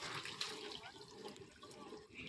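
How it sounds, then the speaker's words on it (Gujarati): Water running from a tap into a container, a faint, steady splashing rush with no voices. "ગોવાર પાણી ભરવા આવ્યો છે"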